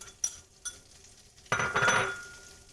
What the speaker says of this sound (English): saute some mushrooms